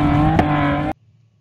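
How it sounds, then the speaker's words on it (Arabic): A dune buggy engine drones loud and close with a steady, tonal motor whine and one brief sharp spike partway through, then stops abruptly. "والصوت الأخير لمركبة كثبان."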